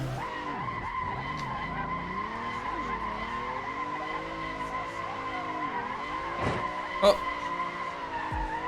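Tires squeal continuously as a car drifts in the Assetto Corsa racing game played on a gamepad, a sustained wavering screech over a revving engine drone, steady and fairly loud with a brief sharp knock near the end.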